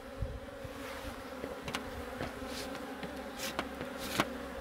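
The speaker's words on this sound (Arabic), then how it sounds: "شوف هنا كمية النحل كيف كتلتهم العسل" Honeybees swarming over an opened beehive during a winter hive inspection, making a continuous low hum with occasional louder buzzes as individual bees pass near, fairly faint overall.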